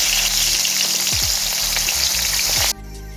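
Fish fries in about five or six spoonfuls of hot oil for an Assamese recipe, giving a loud, steady, crackling sizzle that cuts off abruptly near the end, with no talking.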